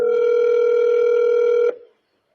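A steady, loud telephone dial tone holds evenly for under two seconds, then cuts off abruptly and trails into silence, with no voices over it.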